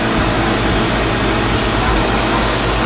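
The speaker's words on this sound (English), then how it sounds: "I have my lathe set at about 3200 RPMs." A lathe spinning at about 3200 RPM on its high setting gives a loud, steady, dense whirring roar that holds unchanged from start to finish, with no voices.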